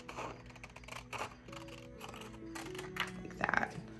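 Scissors cutting through paper card for a vintage photo cabinet card, a few short close snips and rasps over roughly four seconds with faint background hum.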